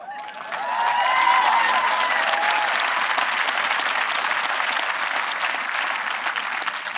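Audience applause at a high school graduation ceremony, a large crowd clapping loudly and steadily for several seconds with a few cheers rising at the start.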